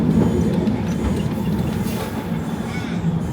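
A Bendigo tram rolls along its rails with a loud, continuous rumble and rattle, steady low wheel noise and faint clicking from the track, heard from close by with no talking.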